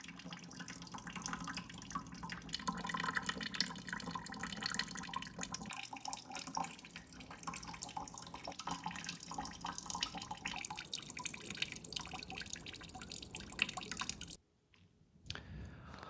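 River water drips and trickles through a filter into a bucket as a steady, faint patter that continues for most of the stretch, then suddenly cuts out near the end.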